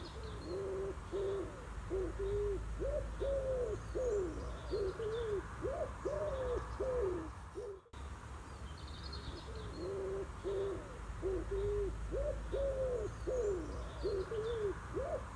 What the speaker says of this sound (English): I got a pigeon right above my head. Lots of pigeons around here.